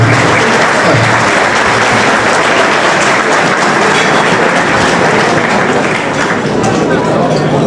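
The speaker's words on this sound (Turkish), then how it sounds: "Ona ben kuvvetli bir alkış rica ediyorum" Sustained applause from a large audience at a gala ball marking the Republic's 101st anniversary, dense and steady throughout with crowd noise mixed in.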